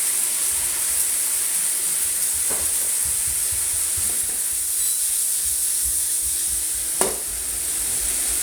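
Green onion hisses in a hot pan alongside bulgogi-style short ribs, a loud, even sizzle running throughout with a couple of faint utensil taps.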